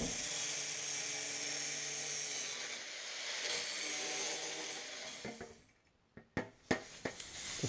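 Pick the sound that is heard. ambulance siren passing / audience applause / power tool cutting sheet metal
power tool cutting sheet metal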